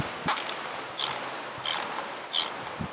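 A ratchet clicks in four short bursts, close and loud, while snugging an ignition coil bolt on a car engine, with no talking.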